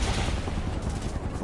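Rapid gunfire from the video game Final Fantasy 7 Remake, dense bursts of shots layered with loud game effects, continuous and busy throughout.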